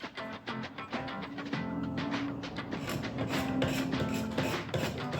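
Scraping at a joint on a wooden Tuam/Mayo chair during rejointing, heard as close, repeated rasping strokes that settle into a steadier scrape.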